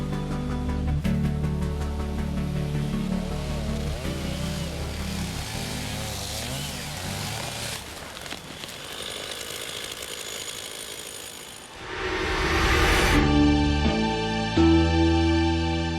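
Chainsaw cutting wood during safe felling work on a hillside, with a holding strip left on the pressure side so the bar does not pinch. A steady buzzing engine drone runs throughout and swells louder near the end.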